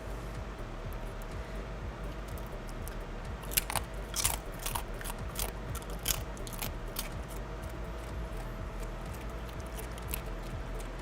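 A dog crunches a treat in a quick run of sharp, close crisp bites over a steady low hum, with no talk.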